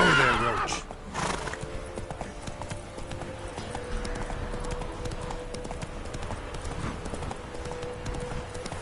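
Roach the horse in The Witcher 3 gallops with steady rapid clip-clop hoofbeats and gives a whinny near the start, with game ambience and a faint low hum beneath.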